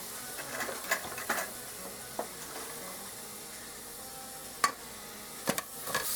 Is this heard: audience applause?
no